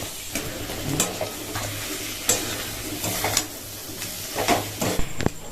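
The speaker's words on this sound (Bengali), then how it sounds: "এবারই হচ্ছে দিয়ে দেব ভেজে রাখা আলু" Fried potatoes tossed into a sizzling spiced masala for a fish-roe potato curry, with a steady close frying hiss broken by several scraping stirs and light clinks of a spoon against the pan.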